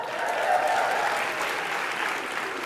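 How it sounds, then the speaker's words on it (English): An audience at a SXSW 2024 event breaks into steady applause, a continuous wash of clapping from a large room that holds evenly throughout. "All the applause, that's great."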